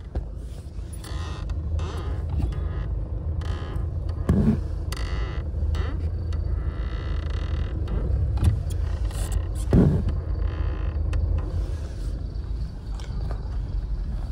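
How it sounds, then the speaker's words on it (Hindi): Mahindra car interior with a low engine rumble and repeated creaking and clunking from a faulty clutch, several sharp knocks scattered over steady road noise. "देखो पे क्लच में फिर दोबारा आवाज आ रही है"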